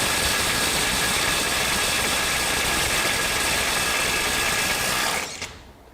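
DeWalt DCF850 Atomic 20V compact impact driver with a 1.5 amp-hour battery hammering continuously at high torque, a loud, dense, close rattling buzz that runs steadily for about five seconds, then cuts off.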